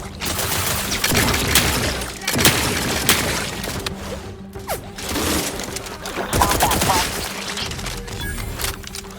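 Gunfire from combat in the video game The Outer Worlds 2, dense overlapping shots and impacts with crashes and booms, loud and continuous, with game voices mixed in.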